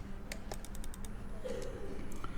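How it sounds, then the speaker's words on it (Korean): Keys clatter on a computer keyboard during SketchUp building modelling, a quick run of light clicks followed by a few spaced presses, faint and close over a low background hum. "컨트롤 키 눌러서 50 엔터, 그 다음 150 엔터"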